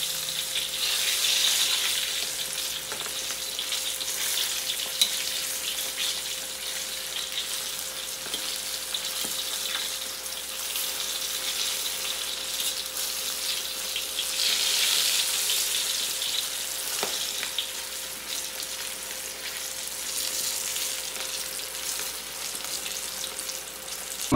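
Salmon belly pieces frying in a pan of hot oil, a steady dense sizzle and crackle that swells and eases over time, close and continuous with no talk.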